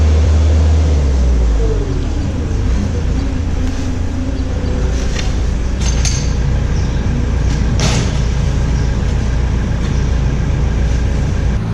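A John Deere 2940 tractor, which has trouble jamming into gear, drives up to a farm shop with a loud, steady engine drone. Faint clanks and rattles sound over it.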